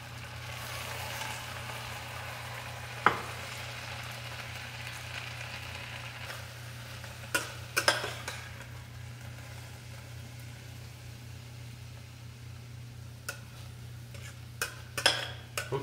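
Onions sautéing in a pan give a faint, steady low sizzle for the whole stretch, joined by a low hum and a few sharp clinks of a utensil against the pan.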